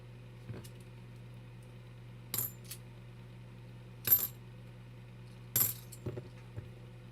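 Half dollar coins being dropped and handled: several sharp metallic clinks and jingles arrive in separate bursts against a quiet low hum, close by and fairly faint.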